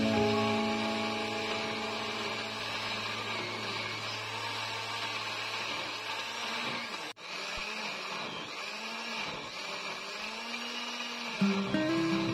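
A kitchen blender whirs loudly and continuously as it purees cut pandan leaves for leker batter, the motor pitch shifting as it works, with a brief dip midway before it runs on steadily.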